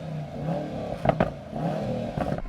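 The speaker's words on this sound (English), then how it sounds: "at least you're getting some proper exhaust noises" A Mercedes-AMG engine revs up in short bursts, with sharp crackling pops from the exhaust between the throttle blips, fairly close.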